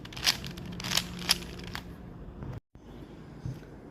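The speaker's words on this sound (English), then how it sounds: "So let us shuffle this solved cube first" A 5x5 puzzle cube is twisted to scramble it, giving a few sharp plastic clicks and rattles in quick succession at the start, then quieter handling, close and fairly faint.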